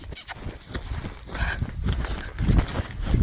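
Horses moving about a sunny pasture, with a few close hoof clops and light footsteps over steady outdoor background noise.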